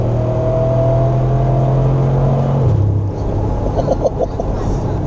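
A sports car accelerating hard toward 60 mph, heard from inside: a loud rising engine drone that shifts gear about halfway through and then settles into a steadier roar with road noise.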